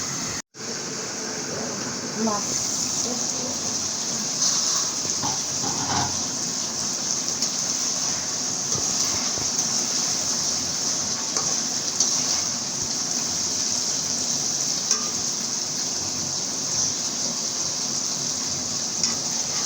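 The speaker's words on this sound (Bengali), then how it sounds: "মাছটা যেহেতু আমি কাঁচা রান্না করবো ওই জন্য মাছটা আমি কষিয়ে ভালো করে কষিয়ে নেব" Hilsa fish sautéing in a pan, a steady, dense sizzle that runs continuously and fairly loud for the whole stretch, with no talk.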